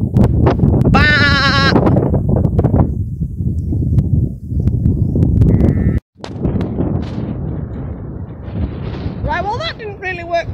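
A person imitates sheep with loud, voiced baa calls beside a field of sheep, with rustling and steady outdoor noise around them. A higher, wavering bleat comes near the end.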